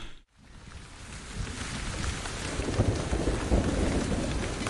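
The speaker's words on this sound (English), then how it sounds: "In May, the rains came." Heavy rain pouring down, a loud continuous rushing hiss that drops briefly at the start and then builds, with deep rumbling underneath like distant thunder.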